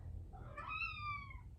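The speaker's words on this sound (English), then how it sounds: "Sorry about the cat." An indoor cat lets out a single drawn-out meow that rises and then falls, fairly close and clear over a quiet room hum.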